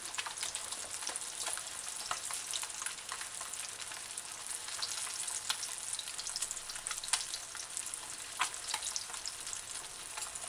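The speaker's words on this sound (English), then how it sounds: "This is frying fish, boneless fish, fish fillet or fillet." Steady, crackling sizzle of fish fillets deep frying in hot oil, with continuous bubbling and scattered sharper pops, close and fairly quiet, no voices.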